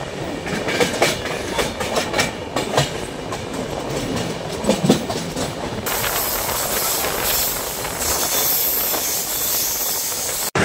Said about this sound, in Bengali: প্ল্যাটফর্ম থেকে যে স্পিড ছাড়লো, মনে হচ্ছে সামনে কি না খেলা দেখাবে এই ট্রেন